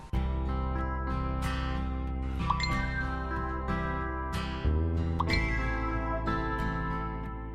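A bright chiming electronic melody rings out continuously, layered tones with tinkling accents, clear and close with no talking.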